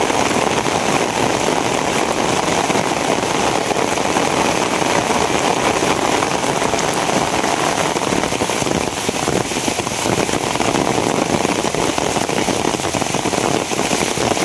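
Heavy rain pours down steadily on surfaces, a dense unbroken hiss of drops at constant loudness with no voices.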